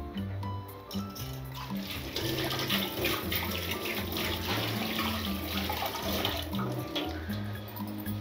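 Water pours steadily into a cooking pan for rasgulla syrup with a continuous splashing gush, close and fairly loud, lasting several seconds.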